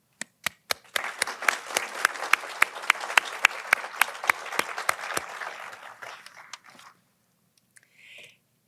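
A crowd at a Veterans Day celebration applauds with steady clapping that swells, then fades out, preceded by a few sharp individual claps; no talking.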